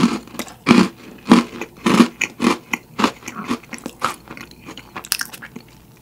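Freeze-dried space mint chocolate chip ice cream crunches close to the mouth in a rapid series of crisp bites and chews that soften and quieten as it breaks down.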